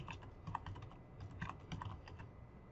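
Quiet keystrokes tapped on a computer keyboard in short uneven bursts, close and faint, with no voices.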